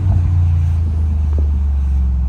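A car's engine purrs smoothly as it drives, a steady low rumble heard from inside the cabin, with no talk.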